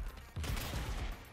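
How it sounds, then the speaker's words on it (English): A bouncing insta-kill railgun fires in the video game ROUNDS, a loud burst of rapid, crackling impacts that starts abruptly and sustains for about a second. "you have insta kill railgun that bounces"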